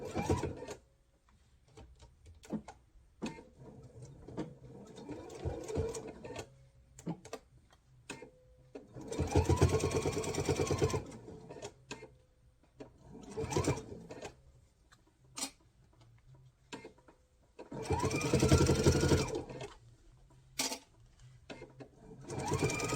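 A sewing machine stitches a reinforced half-inch seam in fabric for a box, running in short bursts of rapid whirring punctuated by quiet pauses and small clicks.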